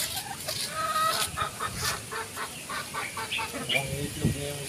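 Backyard chickens cluck in soft, repeated bursts at close range, with louder clucks near the end and faint voices and background noise underneath.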